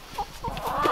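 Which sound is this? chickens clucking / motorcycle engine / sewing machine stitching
chickens clucking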